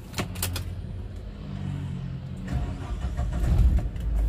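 A 2004 Suzuki Escudo with a 1.6 engine and manual gearbox is started: after a quiet moment the starter cranks and the engine catches into a low, close idle that swells and then settles.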